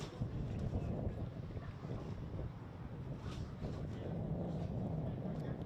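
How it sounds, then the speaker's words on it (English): Steady wind on a sports pitch buffets the microphone with a low, continuous rumble, rushing without letup for the whole stretch. "it is quite windy on the pitch"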